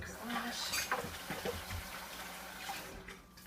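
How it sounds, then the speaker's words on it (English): Tap water runs into a kitchen sink while hands are washed, a soft, close splashing and trickling that shifts in level and is faint overall. "give my hands a quick wash"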